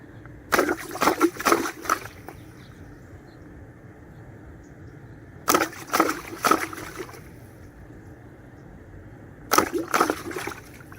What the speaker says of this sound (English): every time you pull the trigger, water comes out